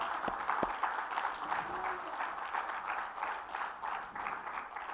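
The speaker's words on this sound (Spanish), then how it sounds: "Dele palmas al Señor y vayámonos gozosos." Church congregation applauding at the close of a sermon, steady clapping that fills the room at moderate level, with a few louder close claps near the start and some speech mixed in.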